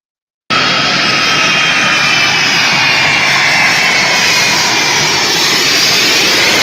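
Jet airplane engines roar steadily and loudly at Kabul airport in Afghanistan, a continuous broad rushing drone with a high whine running throughout, no voices.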